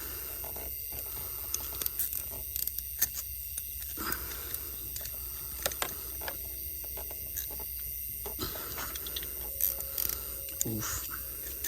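Bolts on a throttle body spacer are worked loose with a ratchet, giving scattered clicking and ratcheting bursts over a steady background hiss, with brief pauses between turns.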